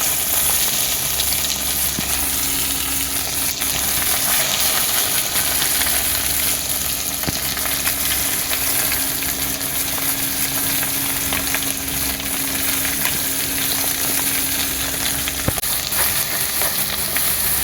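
Spice paste sautéing in hot oil with bay leaf and whole garam masala, a loud, continuous close-up sizzle with faint stirring, steady from start to finish and free of talk.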